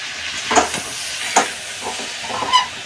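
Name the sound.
onions frying and being stirred with meat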